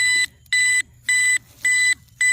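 A metal detector sweeping over buried metal gives loud, steady electronic beeps, five bursts in an even on-off rhythm, close and dominant with no talk over them.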